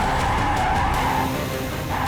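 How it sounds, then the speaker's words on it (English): A Rimac Nevera electric car slides sideways with its tires skidding in a loud, continuous squeal and roar that holds steady throughout. "This car slides."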